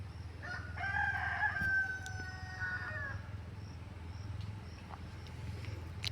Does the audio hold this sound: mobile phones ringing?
no